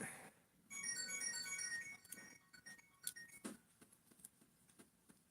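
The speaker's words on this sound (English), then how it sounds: "How did my phone just go off?" A mobile phone ringtone goes off nearby during work on a toy handcuff restoration, a bright melodic electronic tune of rapid tones lasting about a second, followed by faint clicks and small handling noises.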